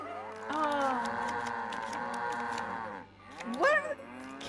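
Cows mooing as a sound effect in a Nancy Drew video game, one long drawn-out moo followed after a short pause by a second rising moo, clear and close.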